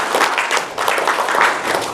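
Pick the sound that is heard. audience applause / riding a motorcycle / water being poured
audience applause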